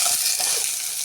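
Chopped onions sizzling in hot oil in a pan, a steady broadband hiss of frying lasting about a second, close and fairly loud with no talking.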